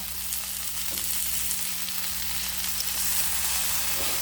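Masala-coated fish fries in a pan, a constant close crackling sizzle with occasional small pops and a low hum beneath, with no one speaking.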